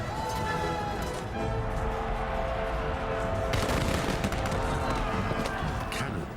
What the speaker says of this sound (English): Cannons and arquebuses, weapons introduced by Jesuit missionaries, played their part.